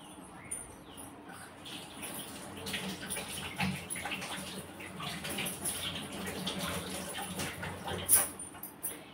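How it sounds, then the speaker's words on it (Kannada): Hands being washed under running water, a steady soft trickle and splash at low level, with faint bird chirps in the background. "ಉಂಡೆ ಚೆನ್ನಾಗಿಂದ ಕೈ ತೊಳ್ಕೊತೇನೆ"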